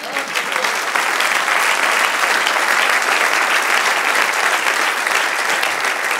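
A church congregation claps enthusiastically and steadily for several seconds, a dense, sustained round of applause filling the space.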